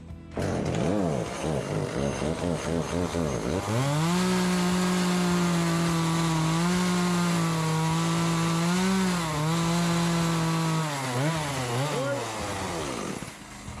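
A chainsaw runs steadily close by, its bar dragged across wood to carve an owl feather pattern, the engine pitch dipping and rising as the cut loads and eases over several seconds.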